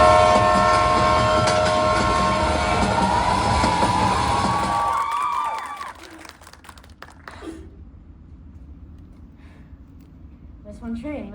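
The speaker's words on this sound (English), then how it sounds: "The origins की train platform number 25 से निकल रही है।" A train pulls away from a station platform, its loud horn sounding over heavy rail rumble before the noise drops sharply to a quieter background, with speech audible.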